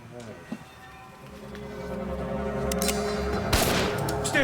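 A single sharp gunshot cracks out inside a building guarded by Yugoslav security agents, loud and abrupt against a steady low background rumble.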